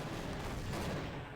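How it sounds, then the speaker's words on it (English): A loud explosion with a dense, rumbling burst of noise that fills the whole moment and does not let up, heard in the first-person shooter Half-Life. "I thought it was far enough away from that explosion it wouldn't hit me."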